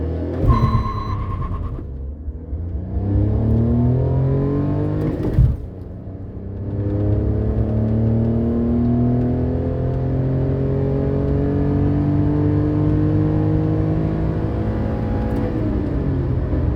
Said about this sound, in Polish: Przyspieszenie do pierwszej setki według deklaracji producenta